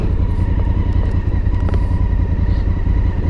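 A Honda Grom motorcycle riding up close, its engine a loud, steady rumbling drone throughout with slight swells in pitch.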